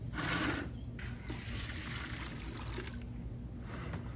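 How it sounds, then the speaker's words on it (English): Water splashes and trickles while a bucket used for mixing pesticides is rinsed, a steady close wash of liquid with a louder gush at the start. "Once again, I make sure to rinse the mother bucket"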